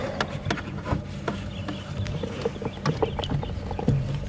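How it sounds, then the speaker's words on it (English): Wattled starlings call at Djuma Game Reserve during an afternoon safari drive, scattered short chattering and squeaky notes at moderate distance over a low idling engine and faint insect hum. "Sounds like still a lot of wattle starlings about."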